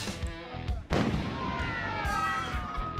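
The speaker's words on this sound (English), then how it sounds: "Check out these 1 in a million moments when fireworks are struck by lightning." A sharp, booming burst of fireworks set off by a lightning strike, followed by crackling and rumbling that fades out, with voices talking faintly underneath.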